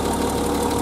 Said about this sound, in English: But engine is idling